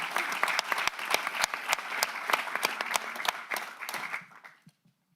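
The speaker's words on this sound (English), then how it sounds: "let's give them another round of applause to our first responders here" A round of applause for EMS first responders at a county board of supervisors meeting: a room of people clapping briskly and steadily before it trails off into near silence.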